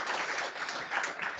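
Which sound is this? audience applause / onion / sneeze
audience applause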